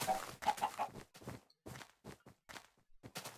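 Minecraft chicken clucking, several short bursts separated by pauses, fairly close, with no speech over them.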